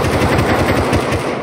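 Rapid automatic AK rifle fire in the game Rust, a loud, close, continuous burst of evenly spaced shots lasting over a second, with no talk.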